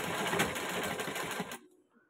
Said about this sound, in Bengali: এবার আমি এটাকে সেলাই করব।